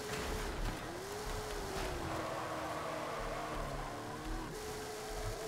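A Hot Wheels Baja Bone Shaker 4x4 with big tires in Forza Horizon 5 revs and slides, its engine tone rising and falling through a drift over steady rushing road noise.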